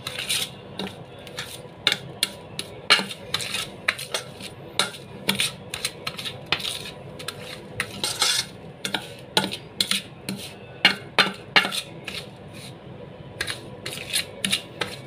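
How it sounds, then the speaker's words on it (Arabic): Dry spices for homemade Egyptian dukkah stirred hard in a bowl, giving a steady run of sharp clinks and scraping rasps close by, uneven in rhythm and with no talking. "لازم نقلبهم جامد"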